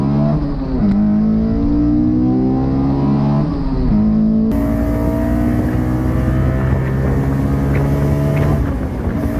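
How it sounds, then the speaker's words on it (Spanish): A naturally aspirated convertible's engine screams up toward 9000 rpm with a high, metallic, race-bike-like wail, loud and close, climbing through repeated rising pitch sweeps without any voices. "escalando hacia las 9000 vueltas con un alarido agudo, metálico y furioso que sonaba a moto de pista atrapada en la carrocería de un descapotable puro"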